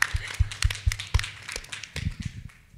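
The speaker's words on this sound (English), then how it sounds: "Can we have a round of applause for that very statement?" Scattered applause from a small panel discussion audience, a handful of distinct, irregular claps and taps that thin out and trail off, fairly faint and close.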